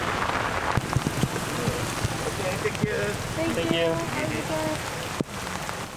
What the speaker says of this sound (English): We are just waiting out the rain for a couple of minutes before we go inside.